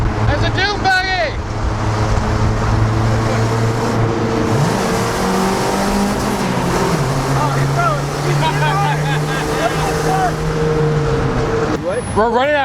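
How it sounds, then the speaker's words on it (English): A dune buggy engine runs steadily while driving, with a droning, slightly rising and falling tone and wind rush, heard under people talking nearby. "There's a dune buggy."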